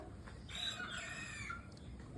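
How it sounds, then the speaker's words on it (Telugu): A young rooster on farmland crows once, a strained mid-distance call lasting about a second over low background noise. "వేడి వేడి పిల్ల కోడి అప్పుడే కూతేసింది"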